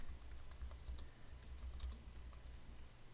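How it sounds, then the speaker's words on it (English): Rapid typing on a computer keyboard, a close run of light, irregular key clicks over a steady low hum, with no talking. "you can just click in here and type in your information"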